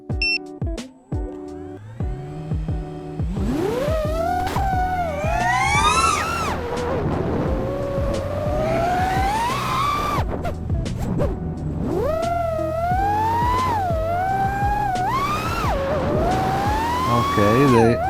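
FPV drone powered by Axisflying 2207.5 1960KV motors in flight, its motors whining loud and continuous, pitch sweeping up and down repeatedly with throttle changes through the whole stretch.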